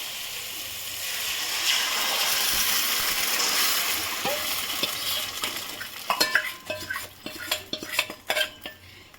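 Rice flour batter for kalathappam is poured into a hot pan, a broad hissing sizzle that settles, followed by clinking spoon and pan taps in close succession.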